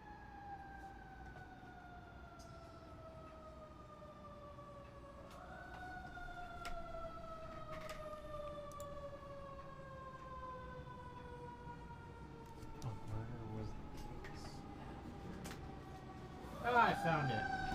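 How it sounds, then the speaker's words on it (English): Wailing emergency vehicle sirens outside, long sweeping tones that rise and fall steadily at a distance, with a brief louder burst of siren and horn near the end. "Apologies for the sirens."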